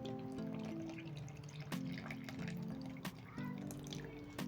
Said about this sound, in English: I'm going to pour in my wet ingredients into the dry ingredients.